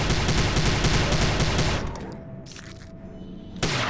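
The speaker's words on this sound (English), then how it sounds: "Where are you shooting me from?" Rapid gunfire in the 2006 video game Prey, a dense burst of shots for about two seconds that then drops to quieter echoes and stray impacts before a final thump.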